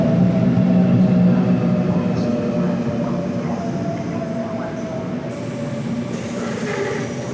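A train draws in on the rails, a steady low rumble and rolling drone filling the whole stretch, loud at first and easing slightly as it settles, with no horn and no talking.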